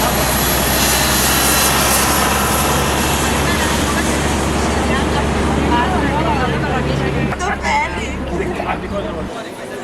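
Jet engines of an airliner idle loudly and steadily after landing at Aswan International Airport, a constant roar with a deep drone that cuts off abruptly near the end as the engines are shut down, with faint passenger chatter beneath.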